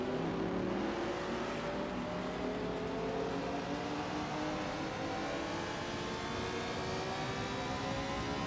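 Race car engines rev and drone continuously in a racing video game, where a 1977 Opel Kadett C runs in Group 3, with rising and falling engine pitch loud and steady throughout, no talk.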